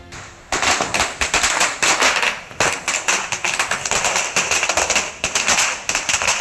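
Firecrackers burst at a political party celebration in Tindivanam, Tamil Nadu, a rapid close string of loud sharp cracks that crackles on almost continuously with brief gaps.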